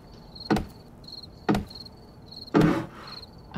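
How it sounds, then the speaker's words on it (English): Crickets chirping at night in 7 Days To Die, a steady high pulsing chirp repeating in short bursts, interrupted by a few louder thumps and footstep-like knocks. "Uh-oh, the crickets had started chirping."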